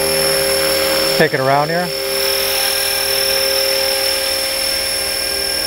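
An RC helicopter flies, its rotor and motor whine holding a steady high drone throughout, while someone briefly speaks over it.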